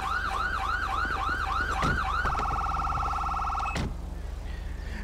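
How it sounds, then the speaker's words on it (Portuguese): A police car siren in GTA V cycles through a rapid wailing yelp, then switches to a steady high warble before cutting off abruptly, loud and close with no talk. "Deixa eu ligar essa sirene, véio"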